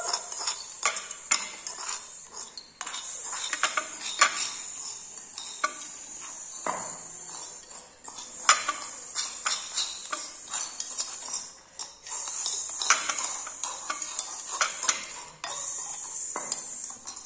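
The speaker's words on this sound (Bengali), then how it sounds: "গাজরটা ভাজা ভাজা হতে থাকুক।" Carrots being fried and stirred in a small toy pan during pretend cooking, giving repeated light metallic scraping and clinking of a utensil against the pan, close and steady with short pauses, no talking.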